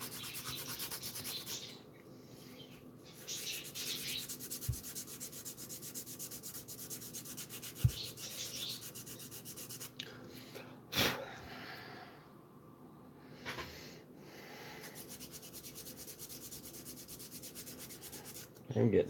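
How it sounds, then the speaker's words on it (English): Steady hand sanding rubs on through the whole stretch, faint and unbroken, with a few soft knocks and a brief sharp scrape partway through. "Seems all you ever do is sand, sand, sand, and more sand"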